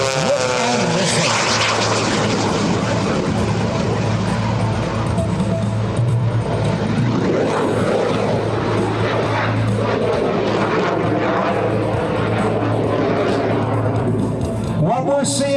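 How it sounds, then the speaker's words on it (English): A 1929 Waco biplane's propeller engine drones loudly and steadily as it passes at an airshow, with a crowd's chatter and an announcer's voice heard underneath throughout. "This is a 1929 biplane, the Waco biplane, but look and listen."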